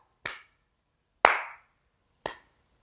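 A group claps hands together three times in unison, each sharp, loud burst spaced about a second apart with silence between.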